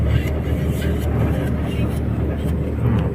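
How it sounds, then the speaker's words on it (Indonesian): Buses idling and rumbling on arrival at Universitas Airlangga's vocational faculty, a steady low engine drone beneath near, continuous talk. "Dua bis sudah datang."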